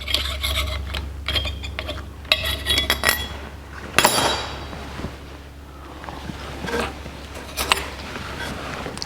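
A damaged metal slinger is pried and pulled off a 1982 Jeep CJ7 axle, giving close metallic clinks, scrapes and rattles in irregular bursts, one sharp clank near the middle, over a low steady hum.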